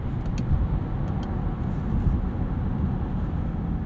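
Cabin of a 2015 BMW Alpina B6 Gran Coupe on the move, a steady low road and engine rumble throughout with no talk.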